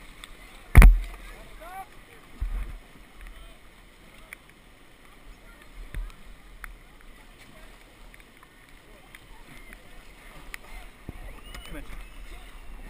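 Paddles work a raft on the Sjoa river, with a sharp knock near the start, then soft splashes and water wash under wind noise, quiet and scattered, and voices talking at times.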